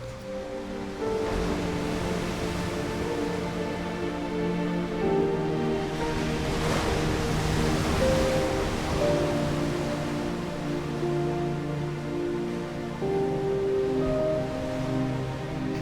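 Ocean waves crash as a steady, continuous wash of surf that swells and recedes, accompanied by soft sustained musical tones, with no voices.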